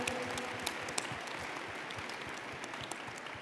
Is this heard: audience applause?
yes